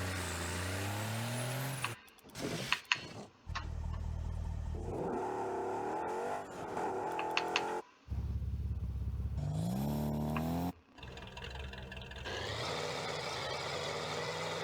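A heavy Roadhog XL car engine in the Rocket League video game revs repeatedly in loud bursts, rising and falling in pitch with brief cutoffs between surges, with no talking.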